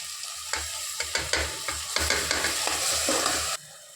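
Ground masala paste, added to tomatoes and curry leaves, fries for chicken biryani in a pan, a steady close sizzle broken by a dozen or so sharp scraping stirs, with no talking, before the sound drops away abruptly near the end.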